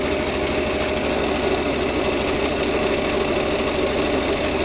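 A sewing machine stitches stretchy T-shirt fabric, a steady, fast mechanical whirring and clatter that runs without a break, close and fairly loud, with no talking.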